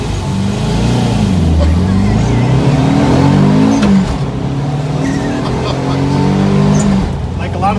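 A turbocharged Volkswagen Bay Window bus engine revs and accelerates hard, its pitch climbing through rising sweeps, loud and close, with someone talking over the roar.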